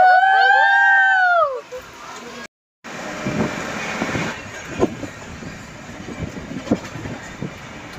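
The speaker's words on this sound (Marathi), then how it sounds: "And here is our train." A passenger train moves along the rails: a shrill, wavering squeal opens, then after a brief cut the carriage rumbles with irregular clacks and knocks at close range.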